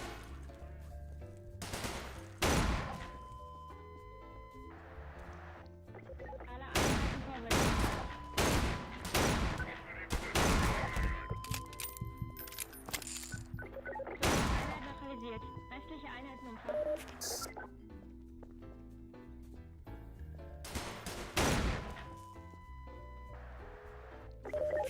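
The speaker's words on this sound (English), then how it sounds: "What is he shooting me with?" Gunfire aimed at the player in a video game: repeated loud sharp shots in irregular bursts and single cracks over a quieter background, with a voice talking between them.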